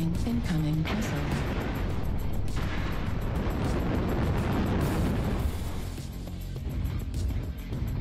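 An incoming missile blasts in MechWarrior, a heavy rumbling explosion with booming low impacts and crashing debris amid ongoing combat noise, loud and close, lasting several seconds.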